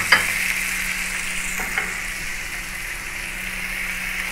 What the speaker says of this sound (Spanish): vamos a cocinar aquí este tomate